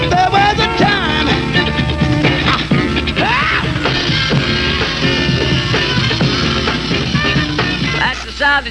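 A funk song plays over AM radio, a loud, dense band mix with punchy horns, drums and bass running continuously throughout.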